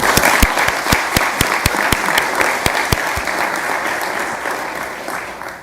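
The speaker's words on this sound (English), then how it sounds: "Let's give a round of applause to all our partners who came together to make this a reality." Applause from a crowd at a Kenosha County Board meeting, a sustained patter of clapping with sharp individual claps up front, fading slightly over several seconds.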